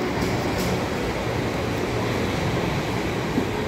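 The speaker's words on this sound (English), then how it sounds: "It's coming in right now. It's class 44, Southwest Wireway's German make train." Class 44 German-built South Western Railway train arriving at Woking station in heavy rain, a steady broad rumble and rushing noise close by, with no speech.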